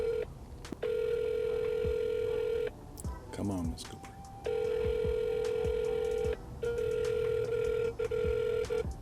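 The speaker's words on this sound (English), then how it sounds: "Let me try to call her again. I'm calling through an app, through our CRM, HiveMind." An outgoing call placed through a CRM calling app rings out in long repeated tones with short gaps, close and clear. Someone speaks briefly between the rings.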